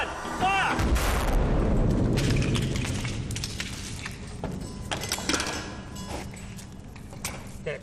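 Pyrotechnic explosion on a film set: a big close boom bursts out early and rolls into a long rumbling decay, followed by crackling debris and scattered sharp pops as it dies down.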